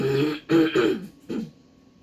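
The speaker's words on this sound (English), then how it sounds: "I have to keep clearing my throat." A person clears their throat several times in quick succession, close and distinct, in short rough bursts.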